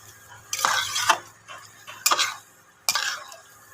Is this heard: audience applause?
no